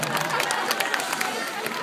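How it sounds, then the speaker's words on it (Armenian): A studio audience applauds contestants Liana and Victoria, a dense, steady patter of clapping with crowd noise and murmuring voices mixed in throughout. "Լիաննային ծափարենք Եվ դուք Վիկտորիային բարձր ծափարենք"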